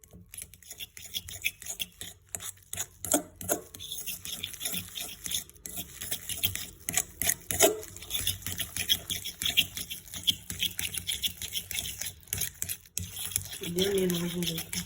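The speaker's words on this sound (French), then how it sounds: "j'ai bien mélangé mes jaunes et ma mayonnaise" Egg yolks and mayonnaise are mixed in a bowl, producing continuous close, quiet scraping and rubbing strokes of a utensil in a quick uneven rhythm, with no speech over them.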